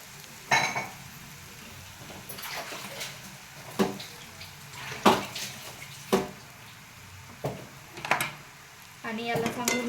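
Crumbled chapati and turmeric stirred in a pan for churma poha, with a spoon scraping and tapping the metal in scattered bursts over a soft background sizzle.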